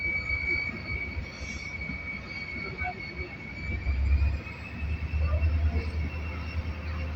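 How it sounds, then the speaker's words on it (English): An EMD diesel locomotive pulls a train out of a departure yard with a deep, steady engine rumble that swells slightly as it gains speed, and a faint voice sits underneath. "सो depart कर रही है हमारी डिपार्चर यार्ड से ट्रेन। साउंड का मज़ा लें आप सिर्फ EMD का।"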